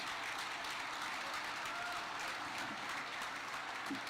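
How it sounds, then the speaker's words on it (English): Continuous applause from a crowd at the World Police & Fire Games closing ceremony in Birmingham, steady and fairly distant, filling the whole stretch without a break. "If we could have one more big round of applause"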